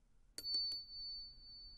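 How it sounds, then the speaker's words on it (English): A house bell rings out sharply, struck about three times in quick succession before a clear metallic tone lingers and fades, alone in near silence. "soon it rang out loudly, and so did every bell in the house"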